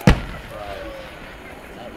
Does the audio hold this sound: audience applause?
no